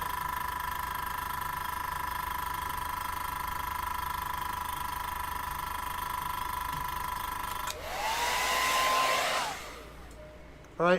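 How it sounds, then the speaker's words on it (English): A hair dryer blows steadily close by to dry paint on a helmet, a constant whirring drone that shifts louder and breathier near the end before cutting off. "I'm going to hit it with a hair dryer,"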